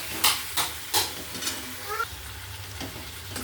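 Vegetable curry stirred in hot oil in a pan, with sharp spoon scrapes and clinks against the pan at the start over a steady soft sizzle, then the stirring eases off while the frying hiss continues.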